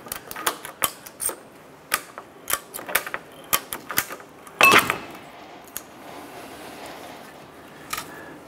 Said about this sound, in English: Now we're gonna use our ratchet strap to go ahead and pull our suspension inward